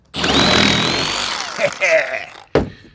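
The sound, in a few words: Sawzall reciprocating saw cutting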